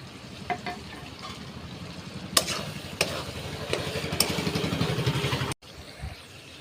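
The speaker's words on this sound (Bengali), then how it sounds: "তো এবার আমরা দিয়ে দেবো পটল যে ভাজিটা ছিল সেটা দিয়ে দেবো।" Fried pointed gourd and prawns cook in spice masala, with a steady close sizzle and rhythmic scraping stirs that cut off abruptly near the end.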